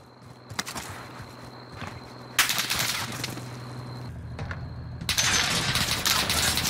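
Gunshots in a shooter video game: sporadic sharp cracks, then dense rattling bursts of fire starting about two seconds in and again near the end, over a low steady hum.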